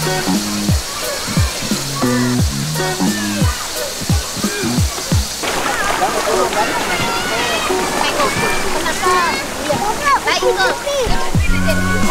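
People bathing in a river splash and slosh the water in bursts, under near-constant talking voices throughout.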